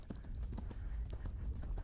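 Horse hooves drumming in a fast steady rhythm while galloping on a cross-country eventing course, muffled and distant under wind noise.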